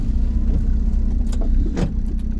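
A VW T3 van fitted with a TDI diesel engine drives along an open road, giving a steady, loud low engine drone with road rumble from inside the cab.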